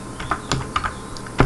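Someone types on a computer keyboard while writing C code, a short run of crisp, close keystrokes in an uneven rhythm, about seven or eight distinct clicks with no talking.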